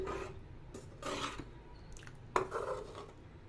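A spoon scrapes and rubs around a cooking pot while stirring fenugreek tamarind kulambu just after the tamarind water goes in. The stirring is a soft, steady rasp up close.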